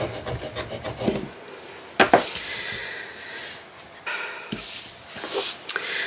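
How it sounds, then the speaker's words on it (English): A bone folder is pressed and rubbed over paper to flatten it for an envelope mini album, giving close, uneven scraping and rubbing strokes with a few sharp taps between them. "Flat and burnish it down."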